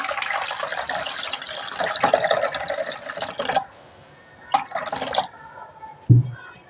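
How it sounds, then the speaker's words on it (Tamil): Cold water splashes and runs in bursts, pouring into a vessel for pani puri water with short pauses between pours, followed by a low thud near the end. "இப்போ தண்ணி ஊற்றிக்கலாம் ஜில்லு தண்ணி ஊற்றிக்கலாம்"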